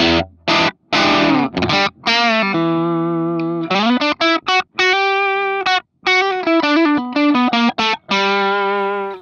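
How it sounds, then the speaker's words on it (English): Electric guitar with the volume knob rolled back to about 3, played through a Kemper profile of an EVH 5150III EL34 amp, giving a cleaner, softer tone; distorted single notes and short chord phrases ring out with brief gaps, loud and close. "Now I've lowered the volume on the guitar to around 3"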